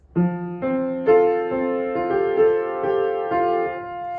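Solo piano plays a phrase from a song from Julie and the Phantoms, clear sustained notes struck one after another in an even rhythm, close and alone with no voices.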